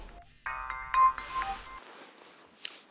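A mobile phone ringtone plays a short, loud electronic melody of rising tones, then breaks off into fainter rustling and a brief final blip.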